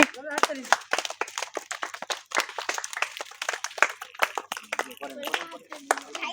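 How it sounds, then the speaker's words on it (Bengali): A crowd watching little girls try to break a clay pot in a party game claps in scattered, uneven bursts while a voice keeps talking over the sharp hand claps. "সকলে জোরে মিলে হাততালি"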